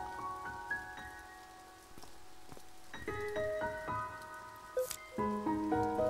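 Steady rain patters down in the video game To the Moon, a soft continuous wash beneath a gentle melodic score with chiming notes, with no one speaking.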